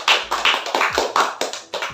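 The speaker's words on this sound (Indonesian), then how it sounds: "Tepuk tangan dulu buat saudara Agus" A small group claps for Agus during a group counselling session, a quick even run of about eight sharp claps close by, with no talking over them.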